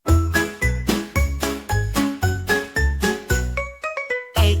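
An AI-generated phonics song for kids plays with a bouncy, chiming backing in a steady rhythm of short plucked notes, moderately loud and without speech.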